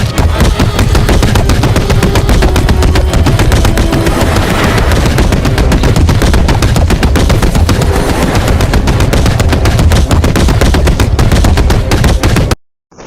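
Rapid, continuous automatic gunfire in a Roblox horror game, loud and close, with dense bursts hammering on without pause for the whole stretch before cutting off abruptly.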